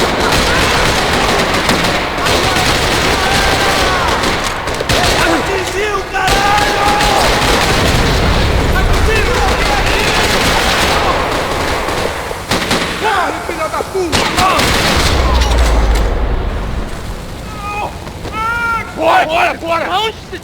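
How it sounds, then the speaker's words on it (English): Gunfire rattling through a parking lot in the Max Payne 3 video game, with bursts of shots and heavy booms mixed with shouting voices and game dialogue across the scene. "Another parking lot rattling with gunfire."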